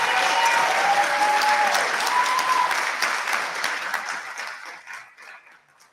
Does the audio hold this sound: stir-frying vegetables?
no